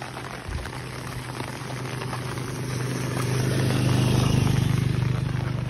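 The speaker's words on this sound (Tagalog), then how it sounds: "Grabe yung tubig. Ang lakas. Kasang ulan." Heavy rain falling in a dense, steady hiss that swells louder toward the end, with a low rumble underneath and no voices.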